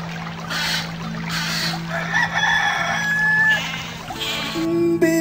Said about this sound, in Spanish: un gallo y una chiva